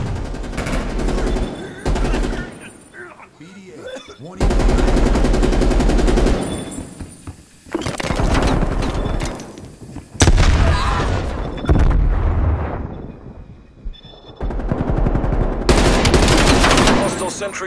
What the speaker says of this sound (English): Sentry turret ready to fire.